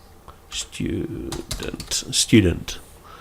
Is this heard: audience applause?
no